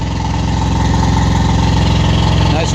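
The inboard engine of an Irwin Citation 34-foot sailboat idles steadily, a loud even low chugging throb that continues without change throughout, with a voice talking over it.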